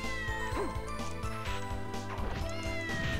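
Cat meowing in the video game Castlevania: Order of Ecclesia, a couple of short, bright, loud meows over steady game music and sound effects, with no talking.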